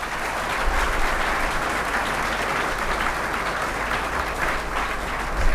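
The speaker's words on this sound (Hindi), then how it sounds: "आप लोग जोरदार ताली से।" A seminar audience in Begusarai, Bihar, gives dense, steady applause that fills the room at moderate loudness for the whole stretch. There is no pause in the clapping.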